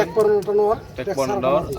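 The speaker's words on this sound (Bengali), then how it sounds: "ভিতরে ভাই এক জোড়া কবুতর দেখতে পাচ্ছি" Pigeons cooing nearby at a pigeon farm, two soft throaty coos one after another, with a person speaking close to them.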